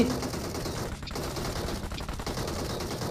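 Gunfire in BGMI, the mobile battle royale game: a steady stream of rapid automatic shots at moderate volume, continuous through the whole stretch with a brief dip, no talk.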